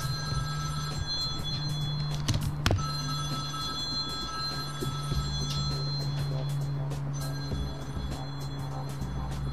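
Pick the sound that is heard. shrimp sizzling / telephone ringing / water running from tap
telephone ringing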